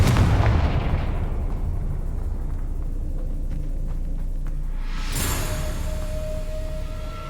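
Confringo fire spell exploding in Hogwarts Legacy, a deep booming blast that rolls into a long low rumble, then a second sharp burst with crackling debris and a lingering tone.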